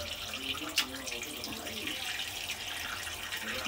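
Tap water runs steadily while raw chicken is rinsed by hand in a bowl or sink, a continuous close splashing rush with small sloshes and one brief clink.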